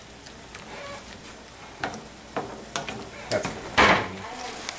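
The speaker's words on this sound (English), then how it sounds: "So now I'm just going to stir this around and let it incorporate" Garlic and mushrooms fry in a pan while being stirred, giving a steady close sizzle broken by scraping clicks and clatters of the utensil against the pan. No one speaks.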